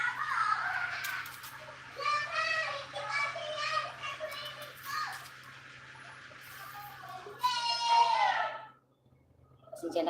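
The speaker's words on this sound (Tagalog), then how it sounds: "Pasensya na kayo at maingay yung mga bata." Noisy children play and chatter close by at a home where okra and black beans are simmering over charcoal out back, their high voices rising and falling throughout with an adult voice talking among them.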